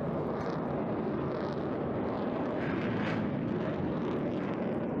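A Eurofighter Typhoon jet roars through a flying display at the Eastbourne Airshow, a loud, continuous broadband rumble that swells and shifts steadily without a break.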